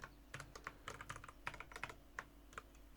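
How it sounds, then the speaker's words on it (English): Fast, crisp typing on a computer keyboard, with irregular bursts of keystrokes clattering close up and no talking over them. "Now suppose I want to type some text, right?"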